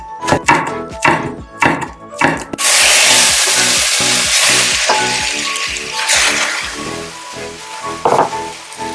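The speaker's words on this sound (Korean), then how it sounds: "양념에 들기름이 들어갔기 때문에 따로 어, 기름을 두르지 않아도 잘 볶아집니다" Aged kimchi stir-fried in a perilla-oil seasoning, with no extra oil added: loud, steady sizzling and hissing that begins after a few sharp clatters of utensil against pan, then keeps running with occasional stirring scrapes.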